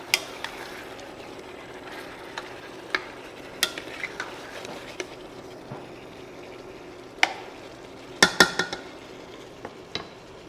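A spoon stirs Cabidela chicken marinade in a pan over rising heat, with a soft steady sizzle broken by scattered sharp clinks and scrapes of utensil on metal.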